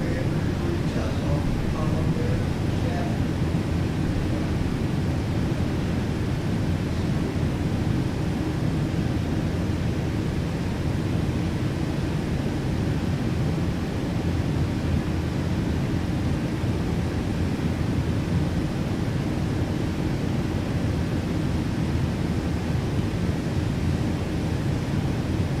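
PMDG airliner engines in Microsoft Flight Simulator 2020 produce a steady, broad, rushing roar that holds at an even level throughout without letting up.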